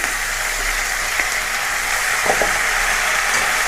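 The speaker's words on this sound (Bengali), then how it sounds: "এবার আমি পালং শাকগুলোকে এখানে দিয়ে দেব।" Washed spinach frying in a pan, a loud dense crackling sizzle that stays steady throughout, with faint stirring touches.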